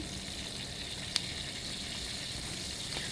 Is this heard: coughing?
no